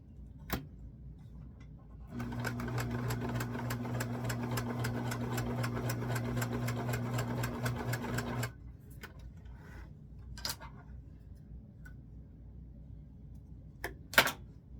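A sewing machine stitches a doll skirt's back seam in a steady fast run of about six seconds, humming with rapid even ticks, followed by a few scattered clicks and handling sounds.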